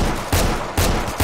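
Gunfire in S.T.A.L.K.E.R.: Call of Chernobyl: three loud, evenly spaced shots ring out close by, each with a sharp blast and a short echoing tail.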